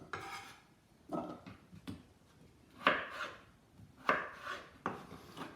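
A knife cuts potatoes into roughly even pieces for potato salad, producing a quiet, irregular series of chopping knocks on a board, each followed by a short scraping rustle.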